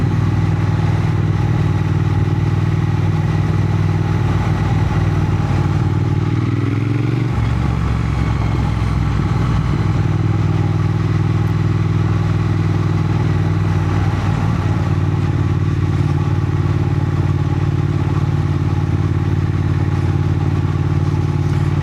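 A Triumph Thruxton motorcycle ridden around town in first and second gear gives a steady, loud engine drone with a pitch change around the gear shift midway, continuing evenly without talk.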